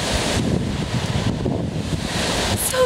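A coastal waterfall pours as a steady, broad rushing roar, with gusty wind buffeting the microphone and no voices.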